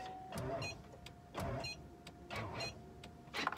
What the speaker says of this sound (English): That was a diesel start fail.